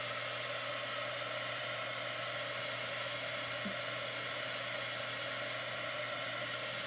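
A hair dryer blows in a constant, loud, even whoosh without a break, drying a wet reusable silkscreen adhesive chalk transfer.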